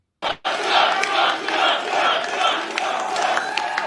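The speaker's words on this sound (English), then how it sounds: "Here's Donald Trump acknowledging the crowd after his record landslide victory at the Iowa caucus" A large political rally crowd in Iowa roars and cheers for Donald Trump after a caucus win, a dense sustained wall of shouting voices after a brief opening burst.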